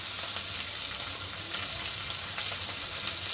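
Green chillies and thick-sliced onions fry in oil in a pan, a steady close sizzle with faint stirring scrapes throughout.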